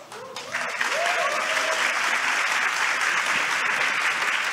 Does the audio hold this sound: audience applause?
yes